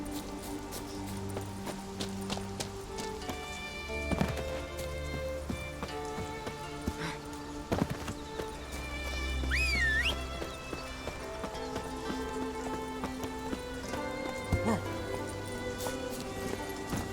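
Hooves of the horse Roach clip-clop steadily at a gallop in The Witcher 3: Wild Hunt, with a whinny partway through, heard faintly under game music and ambient rain.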